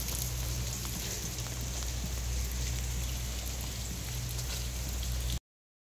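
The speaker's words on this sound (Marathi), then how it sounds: "कारण की खूपच पाऊस येतो आहे." Heavy rain falls in a dense, even roar, heard from shelter under a tree, steady throughout before cutting off abruptly at the end.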